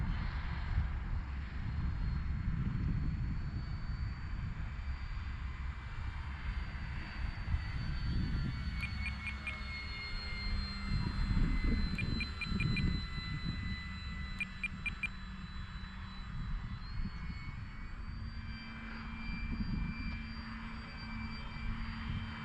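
MPD Commander radio-controlled model airplane flying: a faint, thin engine whine sweeps up and down over steady wind and background noise as the plane moves through the air at a distance.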